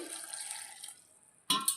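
Water pours steadily into a pot of washed rice and lentils with a little salt, a brief rushing stream that fades, then a short splashy burst at the end.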